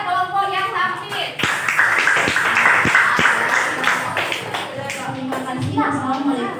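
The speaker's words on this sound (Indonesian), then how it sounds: "kita berikan tepuk tangan kepada kelompok yang tampil" Applause for a performing student group in a classroom, scattered claps and taps rising over a busy room with chatter, voices talking throughout.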